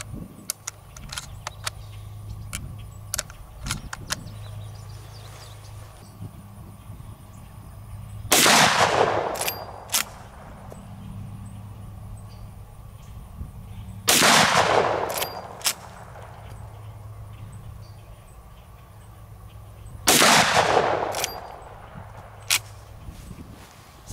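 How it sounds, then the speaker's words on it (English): A Big Horn Armory Model 89 lever-action rifle in 500 S&W Magnum fires 350-grain hollow points outdoors: three heavy, evenly spaced shots about six seconds apart, each with a booming echo, and light handling clicks between them. "I'm gonna take a few more shots"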